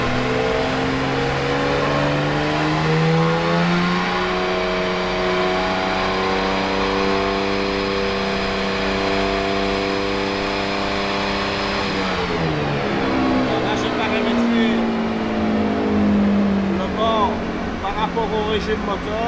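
A BMW M2 tuned to 800 horsepower, running in sport mode, holds a loud, steady engine drone near 4000 rpm, dips briefly, then rises again, with harmonics climbing and falling throughout and talk over it.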